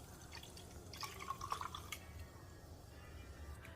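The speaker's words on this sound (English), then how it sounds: "I'm going to add a can of water to this." Water from a can trickling and dripping into chicken stuffing in a slow cooker, a quiet splashing pour lasting about a second amid faint background noise.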